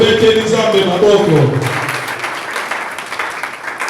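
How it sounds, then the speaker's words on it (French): A church congregation at a Sunday service breaks into applause after opening cheers and voices, with dense clapping building and continuing as a broad, lively wash. "On acclame pour notre Dieu."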